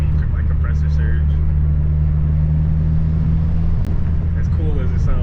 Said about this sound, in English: Supposed to be like compressor surge.